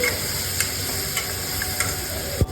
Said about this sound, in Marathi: मसाला आधी मी छान भाजून घेते